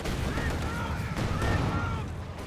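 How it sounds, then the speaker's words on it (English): Concussion grenades and battle noise rumble in the strategy game Company of Heroes 2, a dense, loud, continuous wash of blasts and gunfire with no clear gaps. "I'm using a lot of concussion grenades"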